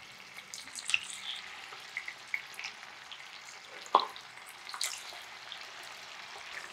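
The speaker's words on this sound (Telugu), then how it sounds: "రొయ్యలు బాగా వేగాలి." Raw prawns fry in hot oil for prawns Manchurian, a faint, fine crackling sizzle close up with scattered pops and one sharper clink partway through.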